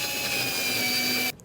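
A Xiaomi electric screwdriver whirs steadily for over a second while tightening screws on a desk, a close, even motor whine that cuts off abruptly.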